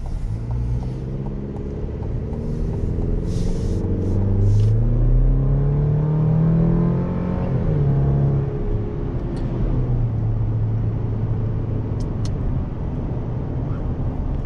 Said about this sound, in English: we'll go ahead up here and we'll hit the gas one more time just to get a little bit more acceleration